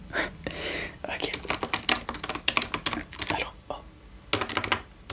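ASMR typing on a computer keyboard, a close and fairly soft run of rapid key clicks with a few pauses, while a voice murmurs briefly.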